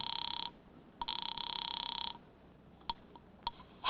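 A telephone rings in bursts from a phone booth near a door at night, a close electronic double ring that cuts off, followed by a few clicks and a handset pickup.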